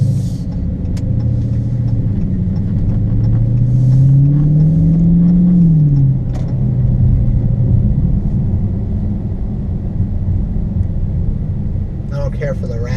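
A 2015 Dodge Charger Scat Pack engine rumbles through its exhaust, with a deep idle rising into a smooth rev around the middle and settling back down, loud and close; a voice briefly talks near the end.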